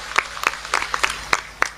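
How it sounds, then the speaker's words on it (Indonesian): Scattered applause from an audience at a Fatayat women's gathering in Temanggung, Indonesia, with a handful of sharp separate claps standing out over a soft background wash, moderately near. "saya minta tepuk tangan dulu luar biasa"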